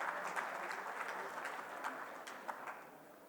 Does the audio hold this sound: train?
no